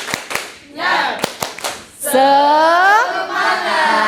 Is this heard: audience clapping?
yes